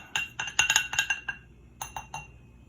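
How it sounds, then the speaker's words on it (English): Ice cubes clink and clatter into a glass while an Old Fashioned with bourbon is being built, a quick burst of bright knocks followed after a pause by a few lighter clinks, close and clear with no talk. "next I'm going to fill the glass with ice"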